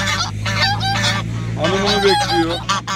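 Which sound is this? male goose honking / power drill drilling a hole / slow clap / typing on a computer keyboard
male goose honking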